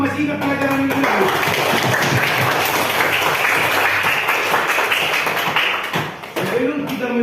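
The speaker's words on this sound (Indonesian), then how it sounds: "Tepukan dulu" Classroom students clapping together in a role-play lesson, a dense steady burst of many hands that fills nearly the whole stretch, with voices heard at the start and end.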